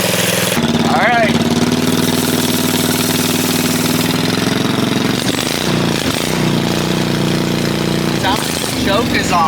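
A 1980 Daihatsu kei mini truck engine runs with the choke on, making a steady, loud mechanical drone that continues throughout, while voices speak over it.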